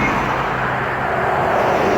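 Exhaust of a first-generation Toyota Tundra fitted with long-tube headers and mufflers, a steady low droning rumble that stays loud and even for the whole stretch, with no voices.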